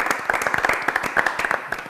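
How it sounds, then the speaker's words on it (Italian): A small studio audience claps for a football goal on a sports talk show, a short burst of dense, close hand claps lasting under two seconds with no voices over it. "Allora andiamo con l'applauso."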